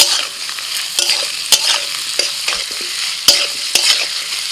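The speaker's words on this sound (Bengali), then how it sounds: "আলুটা একটু ভেজে নিয়ে দিয়ে দিচ্ছি পেঁয়াজ কুচি" Potatoes and chopped onion fry in hot oil in a pan with a continuous bright sizzle, punctuated by repeated scraping and knocking of a spatula stirring them as part of a Bengali spinach kofta curry.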